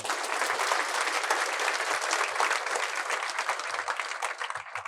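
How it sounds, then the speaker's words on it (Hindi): Sustained applause from a seated audience at a college orientation talk, dense steady clapping filling the whole stretch without voices over it. "तो आप सब लोगों के लिए ताली बजा सकते हैं।"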